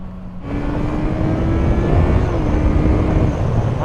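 A Honda CBR650R sport motorcycle's inline engine hums steadily while riding, a sustained loud drone with a rising tonal whine and heavy wind rush that holds after a brief quiet start.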